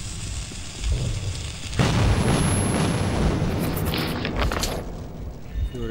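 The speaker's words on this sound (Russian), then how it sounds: "Бежим, бежим, мы ворота взрываем." A loud, rumbling blast as gates are blown up in the video game Metro 2033, a roaring explosion that swells after a quieter start and keeps booming and crackling with debris for several seconds.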